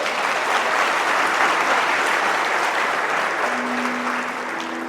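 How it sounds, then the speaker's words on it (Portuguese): A church congregation bursts into dense, sustained applause, steady and loud throughout, easing slightly near the end while a faint tonal hum enters underneath. "Vamos dar uma salva de palmas a essa palavra."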